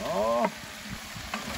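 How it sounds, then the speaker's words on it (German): Meat for Hungarian goulash sears in a field kitchen goulash cannon, a steady loud sizzle under a brief exclamation, with faint stirring scrapes following. "wir haben das Ganze jetzt scharf angebraten, damit wir hier so ein bisschen Röstaroma mit drin haben"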